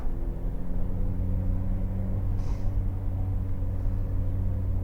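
A Nissan B14 200SX SE-R pulls away on the road, its engine giving a steady low rumble with road noise throughout and no one talking.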